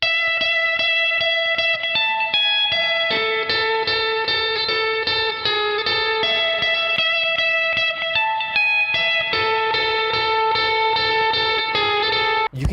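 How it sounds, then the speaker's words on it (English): Distorted electric guitar lead played through stock Squier Stratocaster pickups, bright and biting with sustained melodic notes and effects, steady and loud throughout with no voices. "That annoying high-end bite on the stock pickups is really coming back into play with the lead tones."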